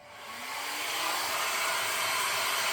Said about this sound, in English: the blow dryer on cool helps to pop the bubbles a lot better in this particular mix